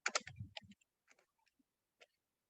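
Keystrokes on a computer keyboard while a search is entered in a web browser: a quick cluster of close, crisp clicks, then a few faint, scattered taps fading into quiet.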